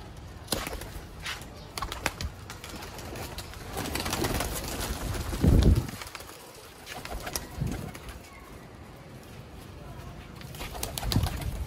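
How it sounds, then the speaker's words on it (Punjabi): Sialkoti rooftop pigeons coo softly a few times at close range, mixed with rustling and light fluttering. "ਤੁਸੀਂ ਪਕੜੋ ਸਾਫ ਅੱਖਾਂ ਦੇ ਵਿੱਚ ਛੱਤ ਵਾਲੇ ਕਬੂਤਰ"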